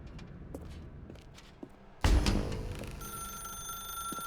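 A telephone rings in The Stanley Parable video game, a bright electronic ring with steady tones starting about halfway through, loud and close, following a quieter stretch of room ambience with faint footsteps.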